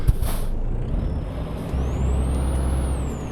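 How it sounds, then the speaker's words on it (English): Engine braking on a Peterbilt 387 truck in Euro Truck Simulator 2, a loud close rumble with a rising whine that builds and sustains. "Now we tested the old Jake brake."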